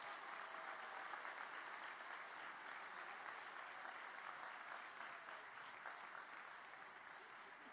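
Sustained, even applause from a large audience at an industrial engineering graduation ceremony, honoring the graduates; dense clapping heard from a distance, steady throughout and slowly fading toward the end.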